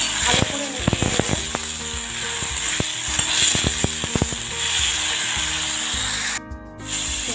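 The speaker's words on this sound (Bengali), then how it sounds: "ডুমুরটা দিয়ে কিছুক্ষণ ভেজে নিয়েছি" Figs frying in a pan after a tempering with dried red chilli, a steady sizzle under repeated spatula scraping and rubbing strokes against the pan, close and fairly loud.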